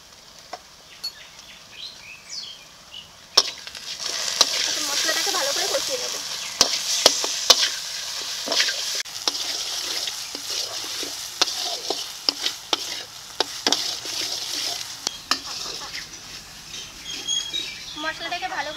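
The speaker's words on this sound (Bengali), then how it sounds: "মশলাটাকে ভালো করে কষিয়ে নিয়েছি" Spice paste of garlic, dried red chili, Kashmiri chili powder, salt and turmeric frying in a pan for mutton curry, a continuous close sizzle broken by sharp scraping and tapping of a spatula, with occasional faint background chirps.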